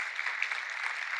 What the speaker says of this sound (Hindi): जोरदार तालियों से हम उनका स्वागत करेंगे